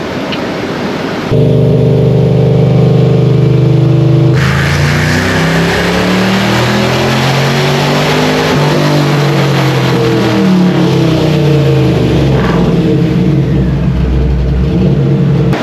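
A 1969 Camaro with a ProCharger supercharger makes a full-throttle dyno pull, its engine note rising steadily in pitch and staying loud and close without any talk.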